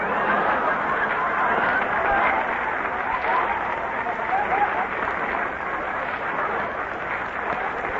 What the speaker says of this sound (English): No applause in there, please.